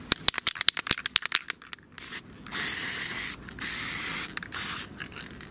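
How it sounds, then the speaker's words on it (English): Spray paint hisses from an aerosol can onto a Logitech G402 gaming mouse, a burst of rapid clicks and rattles followed by three long, steady, close bursts of spraying with brief pauses between them. "I'm not trying to really spray the sides, I'm just doing it on top"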